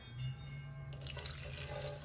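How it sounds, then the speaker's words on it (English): Room-temperature water poured for sourdough discard loaf bread dough, a short splashing stream that starts abruptly about halfway through and runs close and steady to the end. "You need 250 grams of warm water. I'm using room temperature water."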